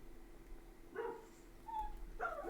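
A dog barks outside in a few short bursts, distant and fairly faint, with other dogs set off into barking, over steady room noise.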